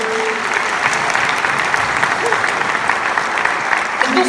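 A church congregation applauds in a dense, steady wash of clapping that lasts throughout, with a voice faintly audible beneath it.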